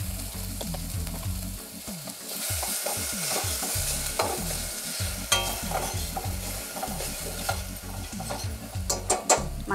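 Toor dal, soaked briefly in water, is tipped into lightly fried onions and stirred in a pan, giving a steady sizzle with repeated scraping and clinking of the spoon, close and continuous with no talk.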